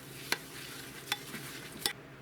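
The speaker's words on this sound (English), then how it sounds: "let's go ahead and give all this" A crab cake mixture with panko crumbs is stirred in a bowl, quiet overall, with three soft, separate scraping knocks of the utensil and no talking.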